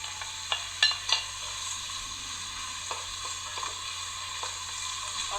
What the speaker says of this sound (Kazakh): Баклажанды қосып, әбден қуырамыз.